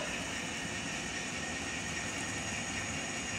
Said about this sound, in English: The noise you hear in the background is the one sound decoder that I have in a diesel